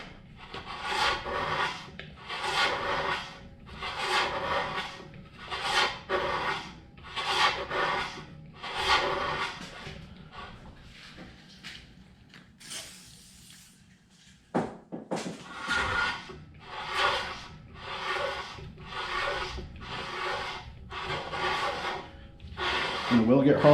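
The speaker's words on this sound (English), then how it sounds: "You can really hear it working as it hits those high spots of that ring ridge." A ring ridge cutter works inside a small-block Chevy engine cylinder, cutting the worn ring ridge. A rhythmic scraping rasp repeats in steady strokes, briefly pausing mid-clip before resuming, close and fairly loud.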